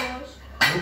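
Dishes and cutlery clattering as a family table is cleared at home, a sudden loud clink of crockery near the end after a quieter stretch.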